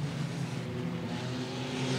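Stock cars racing at Cotton Bowl Speedway, with a steady, continuous engine roar from several cars holding a constant loud drone without clear passes or gaps.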